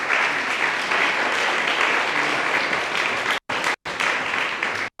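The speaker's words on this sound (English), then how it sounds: "Please welcome on stage. Big applause." A theatre audience applauds loudly and steadily as a speaker is welcomed on stage, broken by a couple of abrupt cuts near the end.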